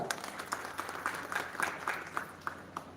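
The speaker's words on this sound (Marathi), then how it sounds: "पहिल्यांदा मी सर्व पत्रकारासाठी जोरात टाळ्या वाजवा" An audience at a Marathi journalists' association event in Patoda breaks into sustained applause for the journalists, a crowd of hands clapping steadily with a few louder bursts.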